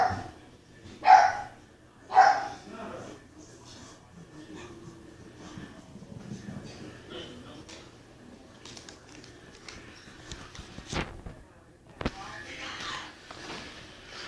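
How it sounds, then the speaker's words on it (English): A dog barks indoors, two loud barks near the start followed by quieter sounds and people talking throughout. "We all tell him to be quiet and he still barks."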